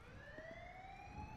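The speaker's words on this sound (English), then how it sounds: "Lockdown sirens coming." A prison lockdown siren wails steadily, its rising electronic tone continuous over a low background rumble, heard from some distance.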